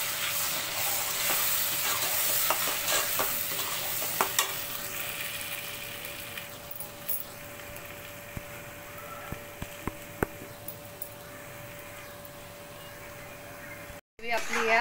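Ground butter chicken masala paste fries and sizzles in oil in a home kitchen while being stirred, a steady soft hiss broken by scattered spoon clicks, with a faint hum running underneath.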